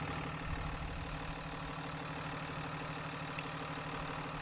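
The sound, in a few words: big bus engine idling after being started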